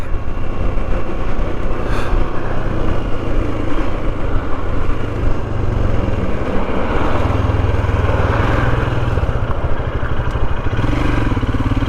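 Royal Enfield Himalayan motorcycle ridden on roads in Cornwall, its engine a constant close drone under heavy wind rush, with steady rumble and no pauses.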